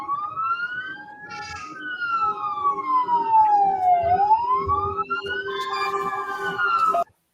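A police siren wails close by, its pitch sweeping slowly up and down in a continuous wail, with traffic noise audible underneath.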